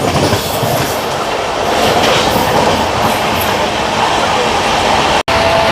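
A train passes on the adjacent track, heard from aboard a Jodhpur superfast on a high-speed run between Vijayawada and Ongole: a loud, continuous roar and clatter of wheels with rail hiss, close and unbroken, with a brief dropout near the end.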